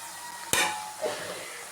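Onion, garlic, tomato, green chili and curry leaves sauté in a pan for a dried-fish curry, with a sharp clink of a utensil on the pan over a soft, steady sizzle.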